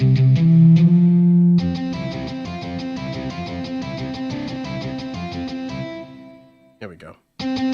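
A guitar is played through a Cali Reverb effect in Cubasis, sustained ringing chords and picked notes with a long wash of reverb, loud and close, ending in brief fumbling noises.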